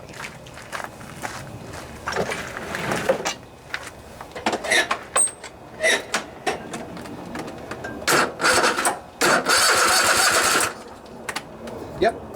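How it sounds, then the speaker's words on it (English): A Kohler Courage 27 hp twin-cylinder lawnmower engine with a plugged carburetor is cranked over in repeated short bursts of starter whirring and mechanical chugging, close by, with some rattling between attempts. "Alright, so I'm just going to turn the engine over a little bit here"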